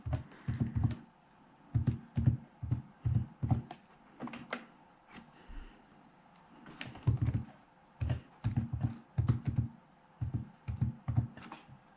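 Fingers tap out an EIN number on a computer keyboard in quick, close bursts of keystrokes, with short pauses between each run of clicks.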